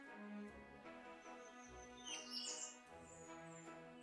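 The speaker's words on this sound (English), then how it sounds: "There's the seagulls." Seagulls call in the Theme Park video game, giving faint, high cries over a steady bed of park music. The calls are soft and somewhat distant, clustering midway through.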